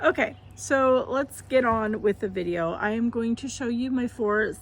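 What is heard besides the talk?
No everyday noises stand out.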